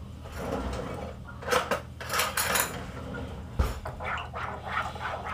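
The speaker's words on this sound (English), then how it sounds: "We're going to give that a quick little mix to wake those yeast up and get them going." Yeast, a squeeze of honey and water stirred together in a bowl for homemade pizza dough, with soft clinking and scraping of a utensil against the bowl in short bursts.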